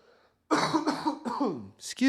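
A person coughs and clears their throat several times in a row, rough, close, throaty bursts with short gaps between them.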